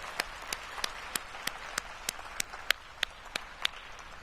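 Audience at a maternal and infant health summit applauding a panel with sharp, evenly spaced claps in a steady rhythm, about a dozen strokes over a faint room hum.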